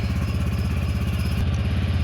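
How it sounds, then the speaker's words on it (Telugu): A motorcycle engine idles steadily right beside the microphone to warm its oil, a loud, even low thumping putter with light mechanical clatter, holding constant throughout. "జస్ట్ స్టార్ట్ చేసి ఒక 30 సెకండ్స్ పెడితే చాలు మామ. ఆ పాటికి మనకి ఇంజన్ది కాస్త ఆయిల్ అనేది వేడవుతుంది అన్నమాట."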